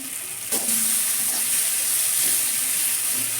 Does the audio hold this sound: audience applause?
no